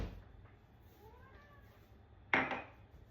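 A soft cat meow rises and falls, fairly faint, followed by a sharp clatter like dishes or cutlery knocking together.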